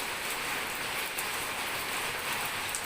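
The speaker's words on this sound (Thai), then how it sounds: "นี่คือสภาพ ฝนที่ สันกำแพงจังหวัดเชียงใหม่นะครับ" Steady rain falls in Sankamphaeng, Chiang Mai, a dense even hiss of drops hitting surfaces with a few slightly louder nearby splashes, continuous throughout and with no talking.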